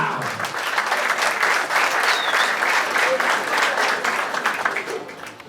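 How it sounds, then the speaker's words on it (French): Wedding guests at an evening reception clap loudly for the couple, a close, vigorous wave of applause with faint crowd murmur and a brief whistle, tapering slightly at the end. "je voudrais vous demander d'applaudir encore plus fort pour le couple de ce soir"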